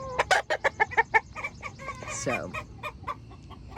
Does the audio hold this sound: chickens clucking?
yes